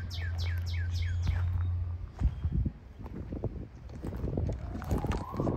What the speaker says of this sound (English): Oh, look at the bird.